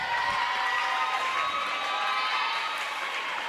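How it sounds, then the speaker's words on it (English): A volleyball crowd, at a match involving Scioto, claps and cheers in a continuous round of applause, a dense broadband patter that holds at an even level throughout. "Quaid, a nice round of applause"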